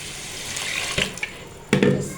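Water poured into a pot of fried degi-style chicken korma: a rushing, splashy hiss close by, with a couple of sharp knocks and a louder surge of water near the end.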